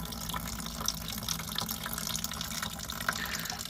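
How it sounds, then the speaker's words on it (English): Water from an air conditioning unit's drain runs and trickles steadily, with close, continuous splashing and drips at moderate level and no talk. "draining the water right now."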